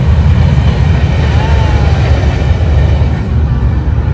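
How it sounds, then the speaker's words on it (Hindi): A heavy freight train rumbles past close by, a loud, steady roar of wagons with faint metallic squeals and clatter. "ये माल गाड़ी है, बहुत बड़ी होती है।"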